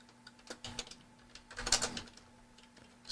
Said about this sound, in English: Excuse my loud keyboard.